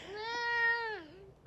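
A house cat gives a single drawn-out meow lasting about a second, close and clear, rising then falling in pitch, followed by a brief sharp click.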